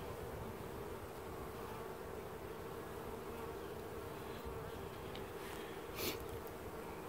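Honey bees buzz steadily in an open hive during an inspection, a dense, continuous hum at close range with no talking.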